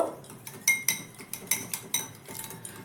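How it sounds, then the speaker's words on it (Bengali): A utensil whisks yogurt in a bowl for raita, producing a rhythmic series of close, bright metallic clinks against the bowl, roughly eight strokes with no talking. "এবার দইটাকে একটু ফেটিয়ে নেব"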